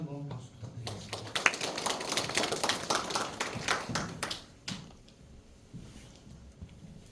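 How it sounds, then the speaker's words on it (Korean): An audience of residents at a neighbourhood redevelopment briefing in a community centre claps in a dense burst of applause. It lasts about four seconds, then thins out and fades, with a voice speaking over it. "다시 한번 박수 부탁드리겠습니다."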